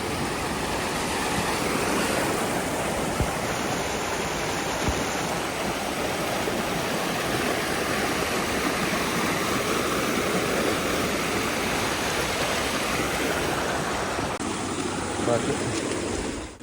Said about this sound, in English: Right after that, we came upon Kinsey Creek.